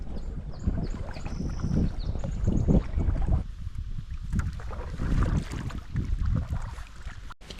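A canoe is paddled across a lake in Algonquin Park, with rhythmic paddle strokes splashing close by over wind buffeting the microphone.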